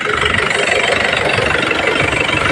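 A vehicle engine that has just started runs at a rough, loud idle close by, a dense continuous rumble filling the whole stretch, with a voice speaking over it.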